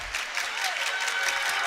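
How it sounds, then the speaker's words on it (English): A high school student section claps vigorously at a basketball game between Petaluma High and Casa Grande High, heard as a dense, steady wash of crowd applause that continues throughout. "Trojans student section clapping vigorously."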